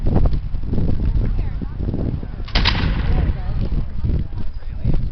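Musket volleys crack out at a Revolutionary War reenactment, loud, booming shots overlapping in a dense, rough barrage with a sharp burst midway, amid shouted commands and crowd noise.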